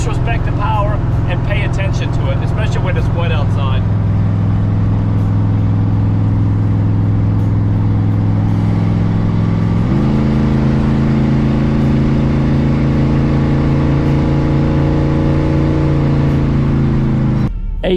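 A hot rod with an LS3 V8 engine running at a car show, a deep steady rumble that steps up in pitch midway, close and loud, with someone talking over it.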